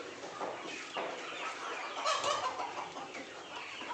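Many chickens cluck and squawk nearby in a busy, overlapping chorus that keeps going without a break.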